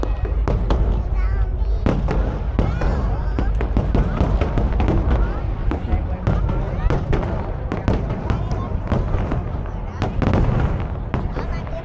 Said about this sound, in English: we still have 5 minutes of the fireworks show